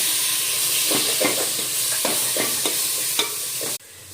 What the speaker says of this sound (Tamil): நல்லா மிக்ஸ் பண்ணணும் தக்காளி போடுறோம்